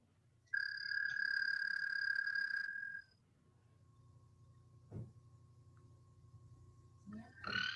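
American toads trill in a spring vernal pool chorus, one loud sustained trill lasting a couple of seconds followed by fainter distant trilling and a short burst at the end.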